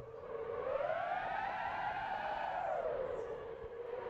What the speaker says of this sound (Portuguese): Olha aí como queima pneu